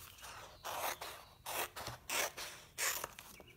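A wood transfer sheet being cut apart: five rasping, papery cutting strokes in a steady rhythm, close and fairly soft, with brief pauses between them.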